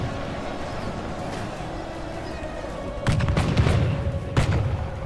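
Troops trading gunfire in the Warhammer battle game Call of Warhammer, a low battlefield rumble that breaks into a cluster of loud, sharp shots partway through, with a few more reports after.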